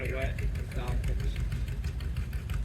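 An Allis Chalmers WD45 tractor engine idles steadily at a tractor pulling event, a continuous low rumble filling the clip from start to end under crowd noise.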